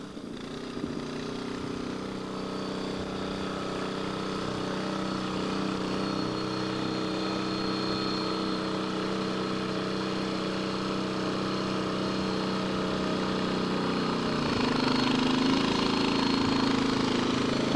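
A gold dredge's pump and motor run steadily beside a stream, a loud continuous engine drone with a slight rise in pitch and level near the end, and no voices.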